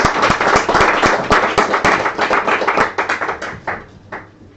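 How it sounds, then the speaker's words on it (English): Close, loud clapping from a small audience welcoming a host at a live talk event, distinct individual claps in a brisk rhythm that thin out and taper off toward the end. "Don't clap yet."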